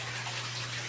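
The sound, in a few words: water draining in a flood-and-drain aquaponics system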